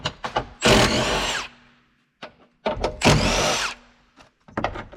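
A power tool backs out the 10 mm bolts holding the roof airbags in a 2022 Chevrolet Blazer. Two sharp, close bursts of whirring, each under a second long, are separated by clicks and rattles.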